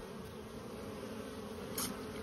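Steady droning buzz of many honeybees at a hive entrance, continuous and close, with a brief brighter swell as one passes near.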